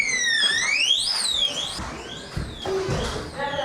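An alarm wails loudly with rising and falling sweeping tones that repeat and then break into faster warbling beeps, with faint background noise underneath.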